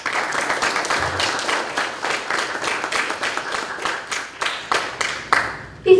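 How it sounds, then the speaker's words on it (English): An audience applauds a fifth-grade class at a school graduation ceremony, a steady wash of clapping from many hands that thins toward the end, with no speech over it. "Applause."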